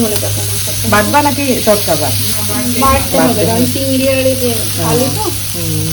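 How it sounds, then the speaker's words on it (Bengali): Cauliflower fries in mustard oil with salt and turmeric, giving a steady loud sizzle throughout while voices talk in the background. "হালকা একটু সরিষার তেল দিয়ে লবণ সামান্য হলুদ দিয়ে ভেজে ভেজে নিলাম"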